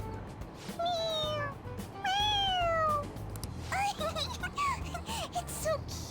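A cat in the Persona 5 Royal video game meows repeatedly when pressed on its head, a few drawn-out, fairly loud mews spaced across the clip over a soft game background.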